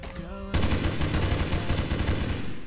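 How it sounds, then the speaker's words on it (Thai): Rapid automatic gunfire in an offline zombie shooter mobile game, a dense loud burst of repeated shots starting after half a second and running continuously to the end, close and steady. "ยิงครับยิง"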